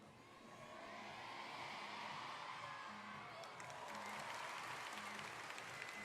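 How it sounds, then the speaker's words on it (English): Crowd noise swells at a men's floor gymnastics World Challenge Cup in Paris during a gymnast's first tumbling pass: a steady, loud wash of cheering and applause from a large arena audience, rising early and sustained throughout. "A huge noise from the crowd there during that first tumbling pass."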